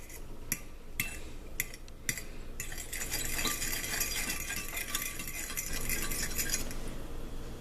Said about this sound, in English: We're going to add some milk in there and then mix it up